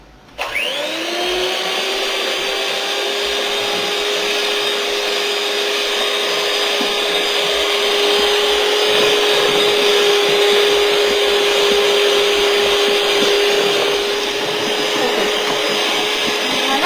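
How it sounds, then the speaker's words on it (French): An electric mixer beats chocolate cake batter for a moist chocolate cake, a steady high-pitched motor whine that starts abruptly and holds constant and loud throughout, with no talking over it. "Alors maintenant il faut battre jusqu'à ce que vous avez un très beau mélange."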